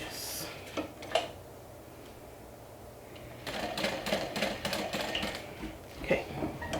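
Sewing machine stitching fabric panels for a bag, running in short bursts of rapid mechanical clatter after a quieter pause, with a little background talk.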